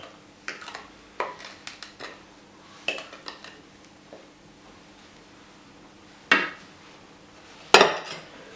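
Cake batter for a mayonnaise sponge cake scraped into a baking pan, a series of light clinks and scrapes of utensil against pan, with two sharper, louder knocks near the end and quiet gaps between.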